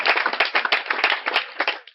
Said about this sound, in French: S'il vous plaît, des acclamations.